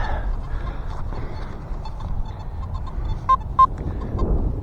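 A metal detector gives wavering, warbly electronic tones, ending in two short squawky beeps, over faint outdoor background noise.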